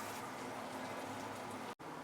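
Sambal sauce sautéing in a pan for a Malaysian grilled-fish dish gives a steady, close bubbling sizzle that runs evenly, then cuts out to silence for an instant near the end before resuming.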